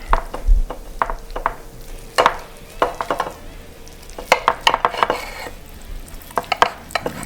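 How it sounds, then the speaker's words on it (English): A Porsche knife chops against a ceramic board with sharp, close taps and scrapes in uneven clusters, some quick strokes and brief pauses, in a home kitchen without talking. "I'm using my wonderful Porsche knife and I'm cutting on ceramic"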